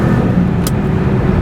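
A Pontiac Firebird Formula V8 engine roars at close range, a loud continuous drone that holds steady with no talk over it.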